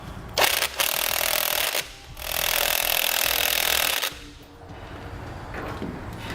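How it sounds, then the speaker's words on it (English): A 3/4 inch socket on a power tool tightens a bolt on a 2015 truck's Timbren rear suspension bracket, giving two loud close bursts of buzzing and rattling followed by a softer run. "we're going to take a 3/4 inch socket and we'll tighten up that bolt"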